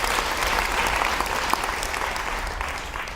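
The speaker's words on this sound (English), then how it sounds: "I'll give her a round of applause." A conference-talk audience claps steadily for several seconds in a hall, dense and fairly loud applause with no speech over it.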